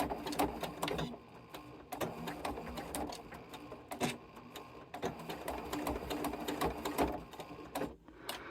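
A sewing machine stitching the finish of a cross stitch piece, a rapid mechanical whirring hum with short pauses and restarts as it runs forward and back, close and clear.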